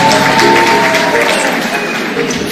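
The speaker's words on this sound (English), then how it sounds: "Kindly clap for them." Crowd clapping for county teams at a Kenyan political gathering, a continuous wash of applause throughout, fairly loud and steady with a faint tonal hum beneath.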